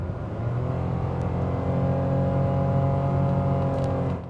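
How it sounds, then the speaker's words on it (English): A 2020 Mitsubishi Mirage G4 LE's small engine drones loudly and steadily as it revs under acceleration, a strained, rising whine heard from inside the cabin without any talking. "listen to the engine"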